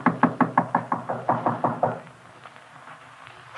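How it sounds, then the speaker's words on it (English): Knuckles rap on a door as a radio drama sound effect, a rapid series of about a dozen evenly spaced knocks that stop abruptly, leaving quiet room tone. "Standing there knocking, I suddenly realized that the door was ajar."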